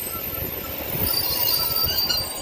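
A Northern Class 156 diesel unit pulls into West Allerton station on the Liverpool branch, a steady rumbling roll with high metallic wheel squeal riding over it, close and fairly loud throughout.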